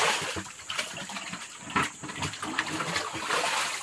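Dirty water drains and splashes out of a newly dug well on the plains, a continuous gushing flow with irregular surges and splatters, moderately loud and with no talk.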